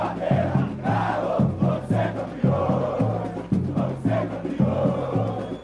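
Atlético Mineiro football fans gather outside the club's training centre, chanting and cheering in a loud, rhythmic, repeated pattern that carries on without a break.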